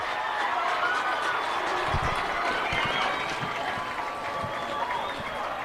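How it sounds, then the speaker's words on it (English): A Lehi crowd at a 6A high school baseball semifinal against Davis roars and applauds after a strike, a loud, sustained wall of cheering and clapping that holds steady throughout. "As the Lehi crowd explodes,"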